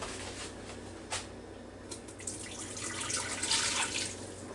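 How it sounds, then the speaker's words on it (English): Hot liquid is poured from a cup into a Ninja Foodi Deluxe cooker, a faint splashing trickle that swells toward the end, with soft kitchen clatter and a low background hum. "So now we're going to take it over here and pour it in the Ninja FOODi Deluxe."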